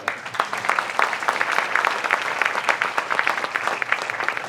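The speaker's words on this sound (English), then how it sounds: "So a big round of applause for Carey." A large audience claps loudly and steadily at an evening event honoring American athletes, a dense, sustained round of applause filling the whole stretch with no talk over it.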